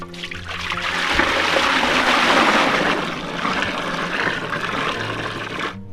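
Water pours steadily in a continuous rushing stream into yogurt for street-style dahi bara, fairly loud and close, for several seconds, then cuts off abruptly.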